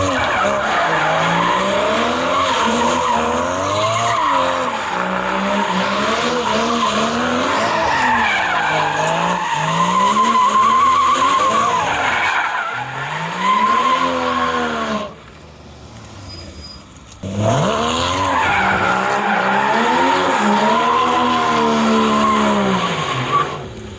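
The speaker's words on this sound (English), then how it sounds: "Oh, I did some burnouts." A Porsche Cayman GT4 on track does burnouts, its tyres squealing loudly and continuously over the engine roar. The rising and falling howl drops out briefly before returning at full volume.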